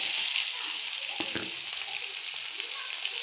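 Green chillies and curry leaves fry in a pan of hot oil for village-style tomato chutney, giving a steady, close hiss of sizzling throughout with a few brief crackles and no talking.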